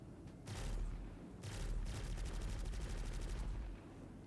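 Turret guns firing in the Star Citizen video game, two sustained rapid automatic bursts, the second longer, loud and close with a low rumbling undertone.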